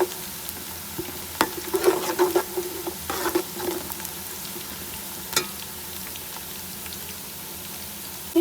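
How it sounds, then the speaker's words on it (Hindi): Chopped onions fry in a pan for a homemade yakhni pulao, a steady close sizzle with scattered crackles and scraping stir strokes, no voices over it. "1 से 2 मिनट में प्याज अच्छी तरह फ्राई हो जाएगी।"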